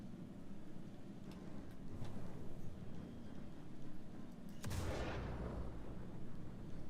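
Weapon fire in the Star Citizen space game, a steady rumbling barrage with a sharper, louder blast burst near the end, continuous and fairly loud throughout.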